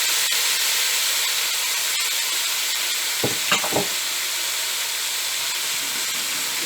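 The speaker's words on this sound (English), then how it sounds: "then I will add the beef, marinated beef" Marinated beef hits a very hot pan for Vietnamese shaking beef, giving a loud, constant sizzle and hiss with a few brief sharper crackles and stirring clatters, no voices.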